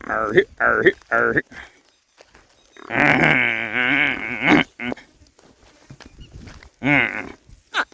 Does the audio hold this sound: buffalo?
yes